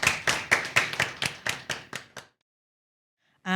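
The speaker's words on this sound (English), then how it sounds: "So please give them a round of applause as they leave" A small school audience at a 2024 spelling bee claps for a departing primary school team, about ten crisp, evenly spaced claps that fade over two seconds, then silence before a brief voice starts at the end.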